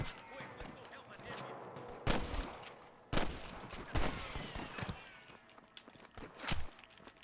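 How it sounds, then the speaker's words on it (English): Several sharp gunshot bursts in Red Dead Redemption crack out at irregular intervals, some in quick rapid-fire clusters, over a busy background of game noise and movement. "I can hear more gunshots"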